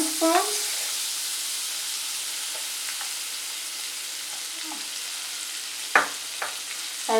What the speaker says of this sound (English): I've added butter, let the butter melt. I'll be adding refined flour,